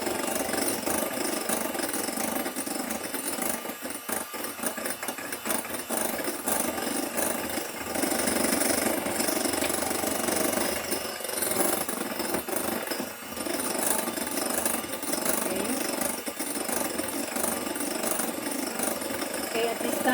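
Electric mixer beating mamon batter while white sugar is added gradually, a steady mid-pitched motor whir running throughout with slight fluctuations, under a voice speaking.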